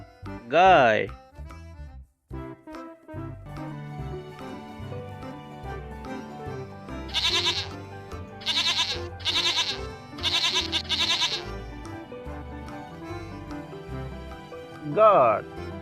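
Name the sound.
goat bleating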